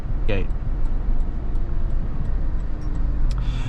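A 2018 Toyota Land Cruiser's 5.7-liter V8 rumbles steadily at close range, a low continuous engine drone heard from inside the cabin with no talking over it.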